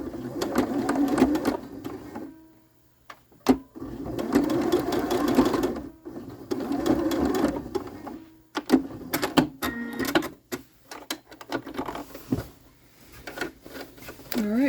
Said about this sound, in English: so I've sewn all around the outside of my pillow here.